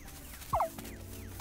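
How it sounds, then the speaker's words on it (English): Terror birds in the game Dinkum let out a quick double squawk, two short sharp gobbling calls close together over a low background hum. "Terror birds from bloody hell!"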